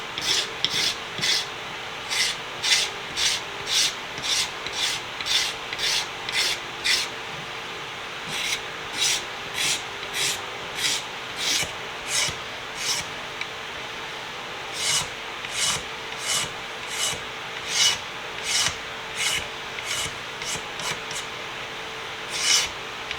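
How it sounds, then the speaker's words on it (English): Repeated rasping scrapes on a wooden tool handle being cleaned up during restoration, a steady run of short strokes in bursts with brief pauses, close and fairly loud, no talking. "And then we'll start scraping the handle."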